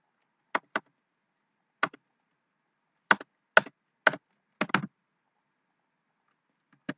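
Keys clack on a computer keyboard while JavaScript code is typed, sparse single and double keystrokes in short bursts with quiet gaps, close and alone.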